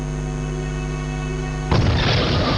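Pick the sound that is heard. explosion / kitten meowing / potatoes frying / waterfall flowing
explosion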